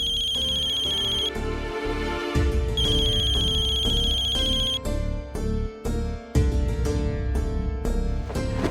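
A mobile phone ringtone plays loudly and repeatedly from under clothes, its bright melodic tones cycling over and over without pause.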